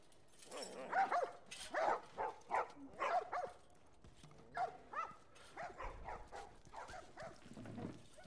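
Dogs in The Last of Us video game bark in a quick series of sharp, moderately close yaps, then trail into softer whimpers and scattered shuffling sounds.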